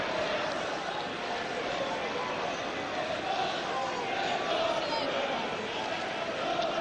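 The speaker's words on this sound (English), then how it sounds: "Forest's biggest crowd of the season" A large football stadium crowd at a Nottingham Forest home match against Liverpool keeps up a steady, dense roar of massed voices for the whole stretch, with no single voice standing out.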